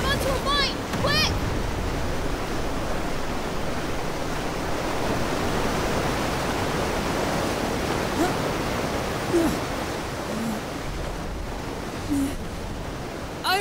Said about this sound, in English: am I the only one hearing water?